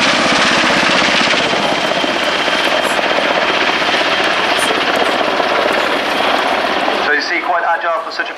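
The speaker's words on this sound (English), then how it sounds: "It's actually a medium utility helicopter, 15 tons" Loud rotor chop and engine roar from a 15-ton medium utility helicopter at an air show fill the air continuously, then the noise drops away sharply near the end as a voice comes in.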